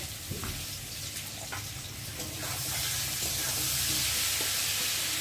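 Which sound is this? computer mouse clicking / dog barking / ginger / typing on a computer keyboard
ginger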